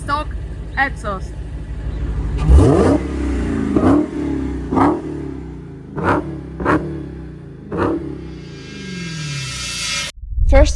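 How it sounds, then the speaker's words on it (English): Dodge Hellcat on its stock exhaust revving repeatedly, a deep rumbling idle broken by several sharp throttle blips that rise and fall, loud and close, ending in a quick burst. "So this is the last time you hear the stock exhaust."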